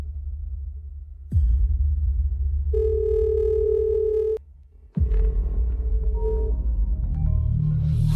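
A phone call connecting: a steady electronic tone holds for under two seconds over a low rumble, then cuts out, and further fainter tones and background noise follow.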